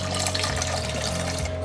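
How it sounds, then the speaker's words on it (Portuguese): Tap water runs steadily into a pot of fish soup with white wine, a continuous close splashing pour beneath a faint low hum. "Vamos então colocar água"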